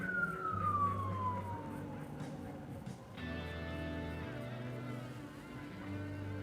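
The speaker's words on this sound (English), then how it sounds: "Is that siren in the song or is it in real life?" A wailing siren sweeps down in pitch over steady music with low bass notes, the siren fading as the tune carries on.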